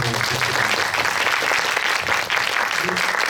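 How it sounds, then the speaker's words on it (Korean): An audience at a film screening and talk at a Lotte Cinema theater bursts into continuous, dense applause that stays loud and even throughout. "박수 한번 부탁드립니다"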